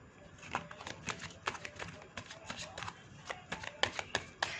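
Tarot cards being shuffled close by, a quick run of soft riffling flicks and slaps in an uneven rhythm.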